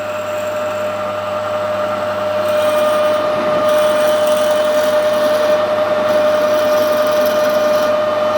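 A steady whining 6mm pilot drill runs continuously through bronze with a constant high tone and grinding noise, growing slightly louder partway through.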